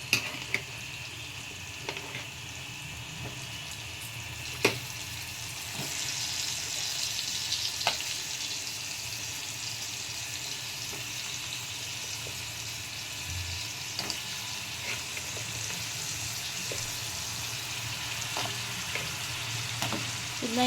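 Crab pieces fry in a thick masala for a coastal-style crab curry, with a steady close sizzle and occasional scraping clicks of a stirring spoon against the pan, no voices.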